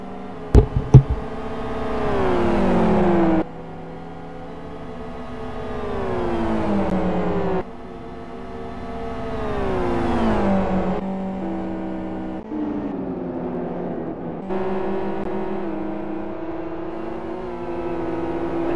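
GT300 and GT500 race cars at a Super GT round on a Kyoto national reverse circuit, their engines roaring loudly as they accelerate and shift through gears, with revving swells and sudden drops as cars pass close by.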